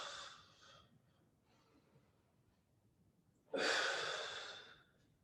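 A person exhales forcefully during a Pilates swimming exercise. A couple of softer breaths come first, then one close, loud, airy breath out lasting about a second, with no talking.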